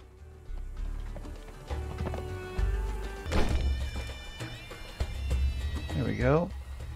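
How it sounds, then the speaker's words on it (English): A horse in the video game Conan Exiles whinnies near the end, a descending neigh over a low rumble of background noise with scattered thumps and hoofbeat-like knocks. "Our other horse."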